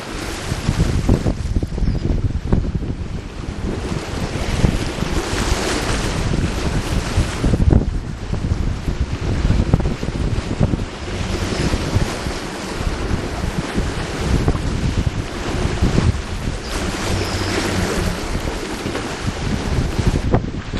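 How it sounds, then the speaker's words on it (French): Ocean waves wash and roll behind a sailboat crossing the Pacific while wind roars steadily across the microphone, a loud continuous surge with no voices. "Encore quelques belles vagues sur l'arrière du bateau."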